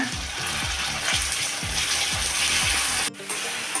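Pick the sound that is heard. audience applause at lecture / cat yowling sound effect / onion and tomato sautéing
onion and tomato sautéing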